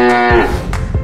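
A cartoon cow gives a loud, close, drawn-out moo that starts deep and tonal, then breaks into rough, fading grunts.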